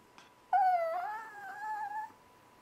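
A Chihuahua whimpers close by in one drawn-out, wavering high whine lasting about a second and a half, then falls quiet.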